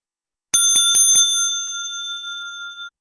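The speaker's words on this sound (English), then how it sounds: "And another bell when your time is up sounds like this." A bell marking the end of a candidate's speaking time at an environmental all-candidates forum strikes four quick, bright dings, then rings on clearly for a couple of seconds with nothing else heard.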